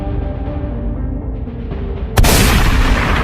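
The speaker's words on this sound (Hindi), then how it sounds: "इसने तो गोली चला दिया और वो गोली जेसन को लग गई है।" A police officer fires a gunshot in an animated horror story, heard as a single loud, sharp blast that cuts through a dense, rumbling soundtrack and leaves a broad noisy wash behind it.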